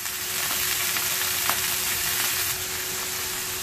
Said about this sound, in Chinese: 煎到咁上下，我哋试下转下佢